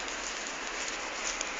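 Rain falls steadily on a town street in Chalon, a dense, even hiss of drops close by and unbroken, with no voices.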